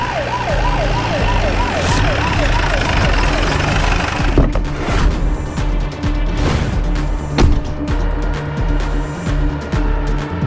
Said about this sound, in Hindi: तभी वहां सबको एक पुलिस सायरन सुनाई दी